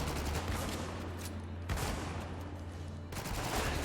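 Dense, sustained gunfire in the war shooter Spec Ops: The Line, a loud continuous barrage with sharp bursts and brief lulls, as if a firefight rages close by.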